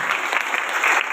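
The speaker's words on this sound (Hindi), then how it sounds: "और हम प्रभु के लिए ताली बजाओ जोर से।" A congregation at a Christian healing service claps for the Lord, with brief, dense, steady applause filling the room.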